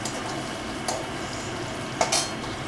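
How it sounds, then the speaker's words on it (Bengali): Potatoes fry gently in a pan and get stirred, a soft steady sizzle with two brief scraping clatters of the utensil against the pan. "আলুগুলো জাস্ট একটু নাড়াচাড়া করে নেব"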